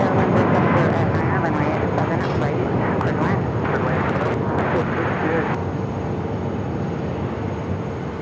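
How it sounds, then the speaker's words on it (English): A heavy jet, Western Transport 3329, roars down runway 7 left on its takeoff roll at Phoenix Sky Harbor, a loud, sustained broadband engine rumble that holds steady throughout. "First, but not our last, heavy departure of the stream."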